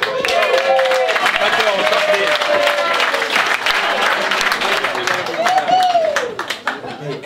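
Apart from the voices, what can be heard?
audience applause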